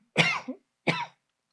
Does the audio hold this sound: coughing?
yes